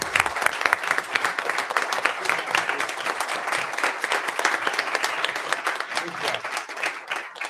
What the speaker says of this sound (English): Can everybody just please, with a round of applause,